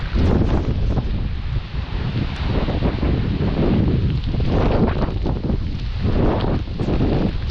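Strong typhoon wind sweeps across a rice field in surging gusts, rustling and roaring near the microphone with heavy low rumble and no talking.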